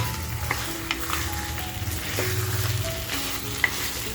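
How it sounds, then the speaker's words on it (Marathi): Crabs frying in a pan with black masala for a spicy village-style crab curry, a steady close sizzle with scraping stirs and occasional clinks of a spatula against the pan, no voices. "आता आपल्या चिंबोऱ्या सुद्धा फ्राय झाल्यात व्यवस्थित."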